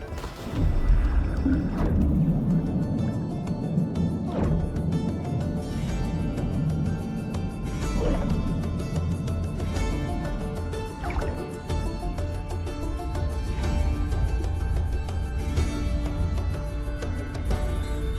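A man swims desperately through icy water in the game Kona II Brume, with continuous sloshing strokes, drips and splashes up close and a brief heavier splash near the start.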